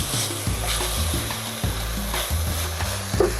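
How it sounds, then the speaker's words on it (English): Steady sizzling of onion and red bell pepper frying in a pan, with a bright hiss throughout and occasional low thumps and clinks of stirring. "Meanwhile, our vegetables are here frying."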